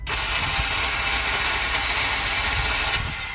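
Starter on a flood-damaged car that will not start, a steady rapid ratcheting whir and click close to the microphone, droning on for several seconds without catching.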